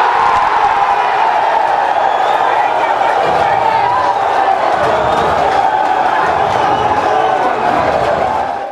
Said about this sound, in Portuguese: Tiaguinho aproveitou o repasse de Marcão e mais uma vez fez a torcida delirar.